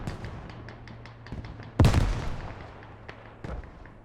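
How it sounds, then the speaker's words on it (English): Mortar barrage explosions in an urban war video game set in Fallujah: one loud, close blast with a rumbling tail, surrounded by fainter distant booms and pops scattered through the scene. "But good rocket, or good mortar barrage, actually."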